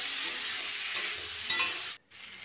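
Spices and ginger-garlic paste stirred through potatoes in a hot pan for a cabbage and fish-head dish, giving a steady close sizzle with scraping stirs, then a brief drop near the end.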